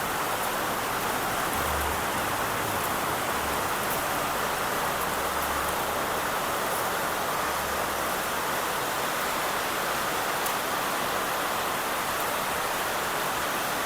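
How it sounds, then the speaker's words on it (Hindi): Heavy rain pours down in a dense, continuous hiss, loud and unbroken throughout with no voices. "इतना तेज पानी बरस रहा है।"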